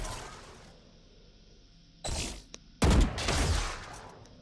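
Valorant gunfire comes in two short bursts of sharp, loud shots with mechanical clicks, separated by a brief quiet gap after an opening stretch of faint background hum.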